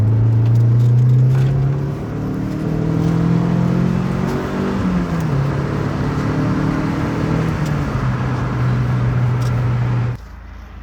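An MG ZR 120 car driving home, a loud, steady engine drone with rising and falling gear tones and road rumble throughout, cutting off abruptly near the end.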